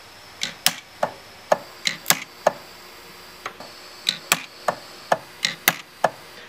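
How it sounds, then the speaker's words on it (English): Sharp, crisp clicks from an Orion pulse arc welder joining silver wires into a pendant framework. About seventeen separate zaps come in irregular bursts, with a short pause near the middle, each one close and clean against a quiet background. "The framework of wires has been welded together with the Orion"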